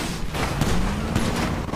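Rapid gunfire from a Fortnite-style video game crackles densely and continuously for the whole moment, loud and close.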